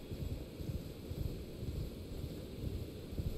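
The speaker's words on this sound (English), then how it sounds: "Dang, it's windy up here." Wind blows at a high, exposed spot in a video game, a low, steady rumbling gust that stays moderately faint and alone the whole time.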